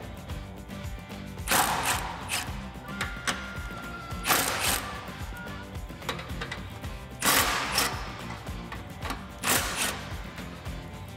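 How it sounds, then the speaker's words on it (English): A 15mm socket on a ratchet loosens the exhaust band clamps in front of the resonator on a 2015-2017 Mustang GT, giving several close bursts of clicking ratchet strokes between quieter pauses. "First thing we need to do is loosen the band clamps right in front of the resonator here using our 15mm socket"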